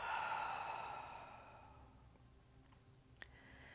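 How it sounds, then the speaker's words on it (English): A long, deep exhale during guided meditation breathing, soft and close, fading slowly into near silence with a faint click at the end. "Nice exhale out."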